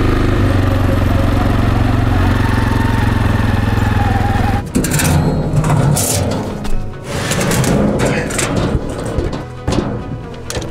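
A homemade tractor engine running on a farm, with a loud, steady engine drone that turns rougher and more uneven partway through as it drives, rattling and clattering close by.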